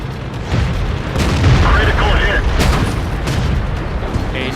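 Heavy booming impacts and explosive rumble from a tank being struck hard in a tank video game, loud and sustained, with a voice speaking over the noise.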